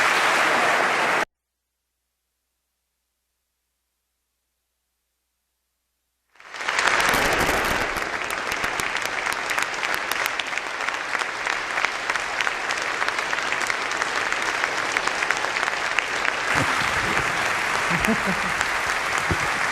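An audience welcomes Buzz Aldrin and Christina Korp with sustained, loud applause from a large crowd that starts after a brief silence and continues steadily to the end.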